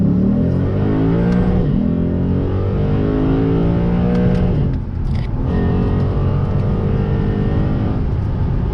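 A Lexus RC F V8 revs hard on a mountain road, its note dropping through downshifts before climbing steadily under acceleration, loud and close throughout with no talking.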